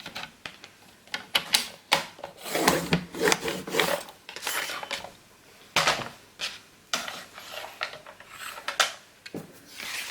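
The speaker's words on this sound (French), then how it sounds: "dans ce sens, je vais faire un pli à 1 cm" Bone folder scoring a fold line into textured scrapbook paper, a run of short dry rasping strokes and rubs at close range, varying in intensity with brief pauses between.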